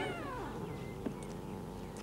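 A cat gives a single drawn-out meow that slides downward in pitch, fairly close and clear, followed by a brief faint sound and soft background noise.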